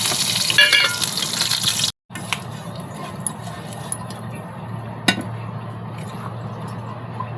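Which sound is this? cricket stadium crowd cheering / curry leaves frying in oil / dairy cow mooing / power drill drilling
curry leaves frying in oil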